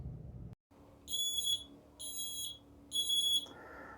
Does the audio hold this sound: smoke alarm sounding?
yes